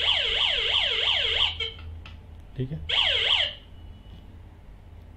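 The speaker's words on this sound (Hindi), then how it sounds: "हमने गेट बंद कर दिया, हटाते ही अलार्म बज गया" A small electronic ATM gate security alarm siren wails in rapid rising-and-falling sweeps, stops briefly with a click and a short spoken word, then sounds again before cutting off.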